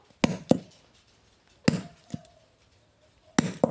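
Hole punch striking through material to fit a flower-trimmed bag clasp closure, heard as sharp, near knocks in small pairs separated by quiet pauses, no voices.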